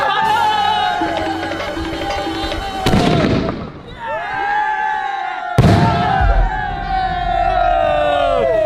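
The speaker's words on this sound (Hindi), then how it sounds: "3000 रुपए वाला स्काई शॉट" Diwali sky shot fireworks go off nearby with whistling rising shots, bursting bangs and crackles, two sharp loud blasts standing out, while a crowd cheers and shouts in the background.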